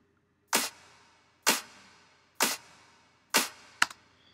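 Four sharp snap percussion hits from a beat land evenly about once a second, each a crisp broadband crack with a short decay, followed by a quicker double snap at the end, alone with no talk.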